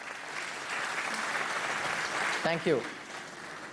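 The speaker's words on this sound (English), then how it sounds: "So give them a huge round of applause," Audience applause at a corporate anniversary gala in India fills the room steadily from the start, with a brief spoken thanks from a man near the end over the clapping.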